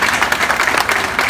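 A crowd at an official ceremony for a small producers' programme claps together in a short burst of loud, continuous applause.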